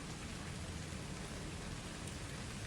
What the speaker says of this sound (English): the beautiful soothing sound of the rain